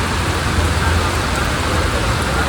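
Steady, dense December rain in Nashik roars continuously, a broad wash of hissing noise with no breaks, close and fairly loud.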